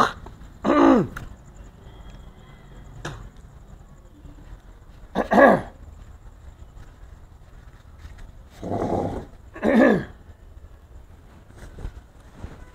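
An old man coughs and clears his throat in several separate harsh bouts spread out over quiet outdoor background, fairly close.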